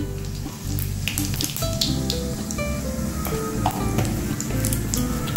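Whole cumin seeds sizzle and crackle steadily in hot oil, the start of a Bengali dal made with chhana water. The sizzle is close and continuous, with a faint tonal backing underneath.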